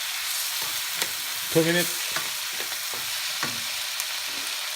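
Tomatoes frying and sizzling in a pan for beef tamarind soup, a steady broadband crackle with a brief louder stir or scrape near the middle and a few short spoken words.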